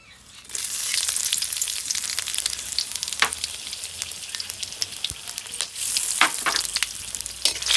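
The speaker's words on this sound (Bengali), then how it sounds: "শুকনো মরিচ, তেজপাতা, জিরে আর হচ্ছে হলো এলাচ দারচিনি সঙ্গে আছে," Dried chilies, bay leaf, cumin, cardamom and cinnamon dropped into hot oil, a loud bright crackling sizzle that bursts in, holds with spitting pops and surges again near the end, close up and without talk.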